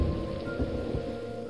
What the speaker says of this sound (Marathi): आधीच अंधार, त्यात पावसाचं तांडव, लखलखणाऱ्या विजा